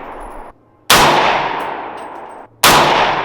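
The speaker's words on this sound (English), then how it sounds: "we both shot 2 rounds down range at 50 yards" AR-15 rifle fired down range at a 50-yard target on an outdoor range, two loud sharp cracks about two seconds apart, each followed by a long decaying echo, with no speech.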